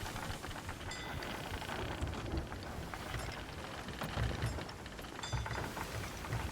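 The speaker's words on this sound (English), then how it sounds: "Escaping the storm." Storm at sea in a pirate video game, with dense, steady rain hissing throughout and a few brief louder swells, no voices over it.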